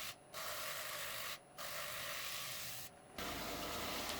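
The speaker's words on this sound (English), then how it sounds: "And some rough sanding to evenly smooth it out." Steady broadband rasping of rough sanding on a wooden drum, continuous and close, broken by three brief pauses before a final louder stretch.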